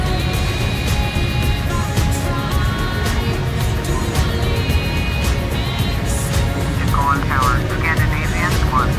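Jet engines of an Airbus A330-200 at Paris Charles de Gaulle in Flight Simulator 2004 hum steadily and loudly throughout, with radio chatter from air traffic control voices layered over the constant whine.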